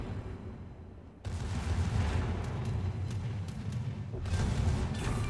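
Secondary guns of the USS Ohio battleship firing in a naval game, a dense rumbling barrage that jumps up in level and keeps rolling with scattered sharp cracks, fairly quiet overall.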